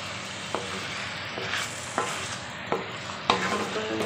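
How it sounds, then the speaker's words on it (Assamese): A spoon stirs elephant foot yam and chicken curry frying in a pan, with several scraping strokes at irregular intervals over a soft continuous sizzle. "এতিয়া লৰাই আছোঁ।"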